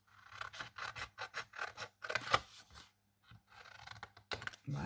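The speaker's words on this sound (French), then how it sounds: "je vais prendre des gros ciseaux parce que il ne me faut pas une grande partie" Large scissors snip through stamped paper in a run of crisp, rhythmic cuts, each a short rasping crunch, close and fairly loud, with a brief pause before the cutting resumes.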